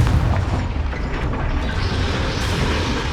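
A Confringo spell blast in Hogwarts Legacy gives a loud, deep boom that rolls on as a sustained rumble with scattered crackling bursts, with no talking.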